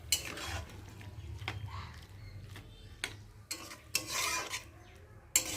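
Banana flower curry with a little water is stirred in a pan, the spoon scraping and knocking against the metal in scattered strokes over a low background rumble, close and moderately loud.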